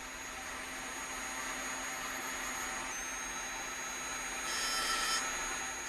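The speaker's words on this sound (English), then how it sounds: "producing bold engravings on marble with a dentist's drill." A dentist's drill engraving marble gives a steady, high whirring grind with a constant tonal whine, fairly close and unbroken, briefly intensifying near the end.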